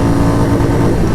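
A Royal Enfield Meteor 350 motorcycle engine revs hard and loud through the gears, a dense close-up engine drone that holds steady for a brief moment.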